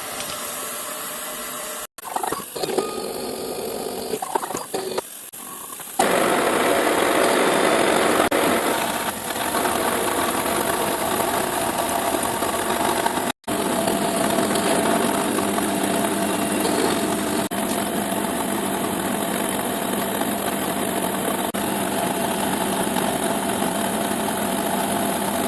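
A milling machine skims 1mm off the top of an injection mould plate and pockets it out, giving a steady, loud, continuous whine and grinding hum that runs unbroken for the whole stretch after a short quieter start.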